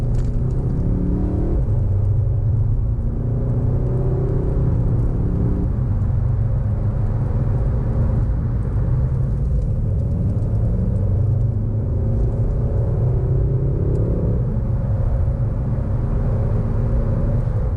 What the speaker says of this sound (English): Let's see what diesel power has to say about the 30 to 70 sprint.